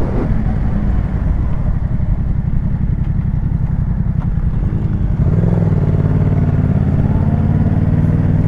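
Yamaha MT-07 motorcycle ridden on the road to the Longinus tower, loud close engine throb with a rhythmic pulsing note that rises into a smoother, higher drone as it accelerates.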